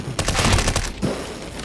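P250 pistol fire in a first-person shooter game, a rapid burst of shots rattling loudly for most of a second, then a short pause and one more report.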